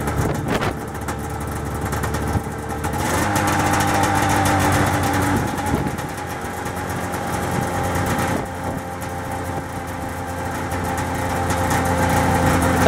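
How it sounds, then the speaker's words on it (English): A two-cylinder carburetor engine running steadily at idle while the right cylinder's idle screw is raised, a continuous close mechanical drone that rises in pitch and then settles, with no voices. "That was me increasing the idle on the right cylinder, which is connected to this tube."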